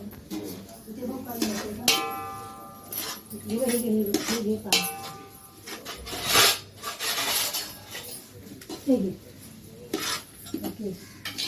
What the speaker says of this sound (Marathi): आता हा एक किलोभर रवा आहे हा मी सगळा याच्यात टाकून घेते आणि आता मी ह्याला चांगला परतून घेते